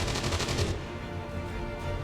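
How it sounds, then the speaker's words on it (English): Rapid burst of automatic gunfire from combat in XCOM 2, loud and dense for under a second, then a ringing, noisy tail with no talking. "The sounds of combat are likely to draw even more of them."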